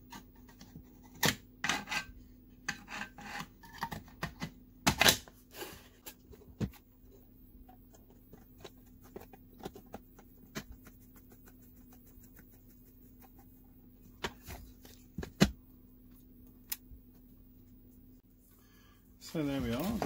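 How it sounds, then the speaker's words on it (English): Small screws being fitted back into the lid of a QCX+ radio kit make faint scattered ticks, scrapes and clicks up close over a low hum, followed by a rustle at the end. "So we'll just put those screws back on."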